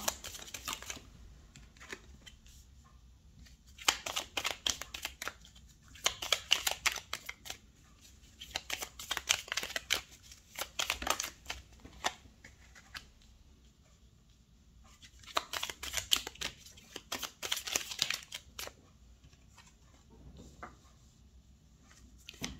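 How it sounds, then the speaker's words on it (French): Tarot cards are shuffled and laid out on a table in repeated bursts of crisp, close card flicks and slaps, with quieter pauses between. "Vous pouvez avancer la vidéo le temps que je pose les cartes"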